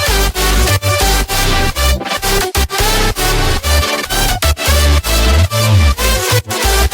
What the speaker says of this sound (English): All of the synths together sound like this.